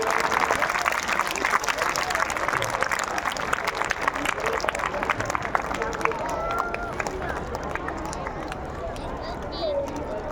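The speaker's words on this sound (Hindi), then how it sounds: "तालियों की गड़गड़ाहट कम है अभी।" A large crowd applauds continuously, a dense, fast patter of clapping hands at full strength throughout, with crowd voices and babble mixed underneath.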